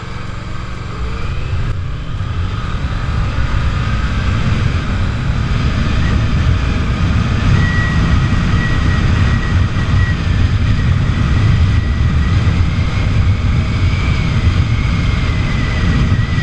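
Dragster-style motorcycle being ridden on the road, its engine giving a steady, loud, low rumble with wind noise for the full length, close and continuous without talking.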